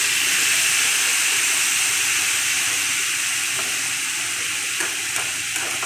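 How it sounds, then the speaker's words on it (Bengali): Dried red chillies hit hot oil, giving a loud, dense, continuous sizzle and hiss up close with no voices. "শুকনো লঙ্কাগুলো দিয়ে দিচ্ছি তেলের মধ্যে"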